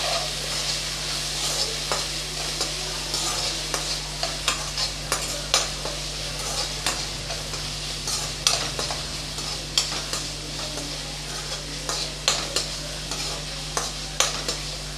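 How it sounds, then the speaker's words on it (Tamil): Finely chopped tomato sautés in a pan for egg rice, a steady sizzle broken by regular scraping strokes of a stirring spoon, close and alone with no talk. "அதையும் நல்லா வதக்கி விட்டுறலாம்."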